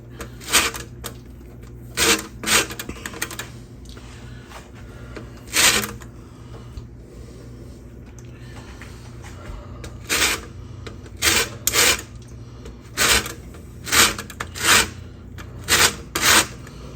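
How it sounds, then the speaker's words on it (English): An orange being zested on a grater for orange chicken gives short raspy scraping strokes, some in quick clusters and others spaced apart, close up and fairly loud, with no talking. "So I'm putting some of the zest in this, and then the rest of the zest will go in the sauce."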